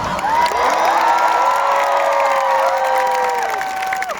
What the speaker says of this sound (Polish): zróbcie wielkie brawa dla tego pana